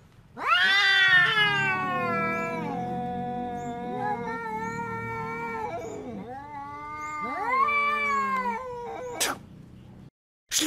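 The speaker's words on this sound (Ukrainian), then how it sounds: "пік котячої активності припадає на початок весни, і вони співають сиренади" Several cats caterwaul in early spring mating season, loud drawn-out wailing yowls that rise and fall in long harmonic howls for about nine seconds, ending abruptly with a brief pause.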